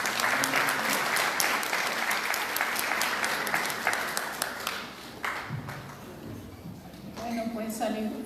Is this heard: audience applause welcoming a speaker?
yes